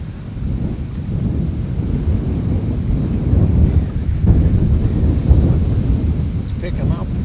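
Strong wind gusts over open water with whitecaps, a steady loud roar buffeting the microphone throughout, swelling slightly midway.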